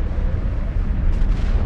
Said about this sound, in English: the sun erupted in a series of massive explosions called coronal mass ejections